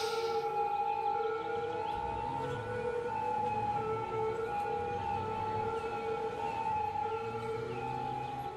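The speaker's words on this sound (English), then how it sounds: "All these police cars are annoying." Police car sirens wail continuously in the city-building game Cities Skylines, several steady overlapping tones holding level and loud over a low background hum, with no talking.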